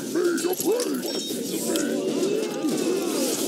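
Carrier pigeons coo repeatedly in the tower-defense game Kingdom Rush Frontiers, soft rising-falling calls repeating over a busy, steady game soundscape.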